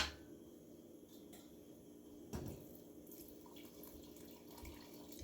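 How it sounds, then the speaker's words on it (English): Water pours quietly into a pot in a steady, faint trickle, with a soft clunk partway through. "I'm going to add more water."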